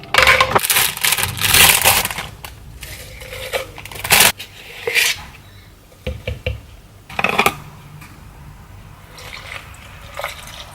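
Ice crushed in a blender for a spinach smoothie, loud grinding bursts with rattling cubes that come and go, stopping and restarting several times.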